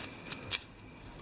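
A stack of investigator cards from the Eldritch Horror board game being shuffled by hand, with a few quick, faint papery riffles and one brief louder flutter, close and quiet.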